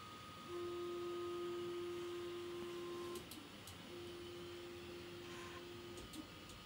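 A D-Bot CoreXY 3D printer homing on linear rails gives off a steady high stepper-motor whine that holds for a few seconds, then stops and resumes. A few faint clicks come from the axes reaching their endstops, all quiet and close.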